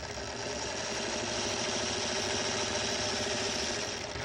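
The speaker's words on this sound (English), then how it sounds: "I'm going to turn my unit, and I'm going to sew again on the next diagonal line" Sewing machine running steadily while stitching quilt blocks on a diagonal line, chain piecing snowball blocks; a continuous close mechanical whir with a fast rapid needle rhythm, loud and unbroken, no talking.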